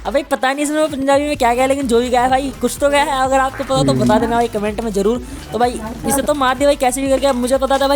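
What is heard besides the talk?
None of the usual background noises is heard.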